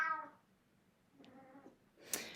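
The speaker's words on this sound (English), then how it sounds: "And my cat is saying hi." A pet cat meows a few times, a harmonic call at the start, another in the middle, then a brighter, higher cry at the end, close and fairly quiet with no talk.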